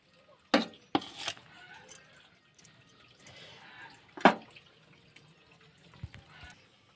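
Running tap water splashes while fresh cowpea pods are rinsed in a kitchen sink, with a few sharper clinks and drips standing out over a soft, steady trickle.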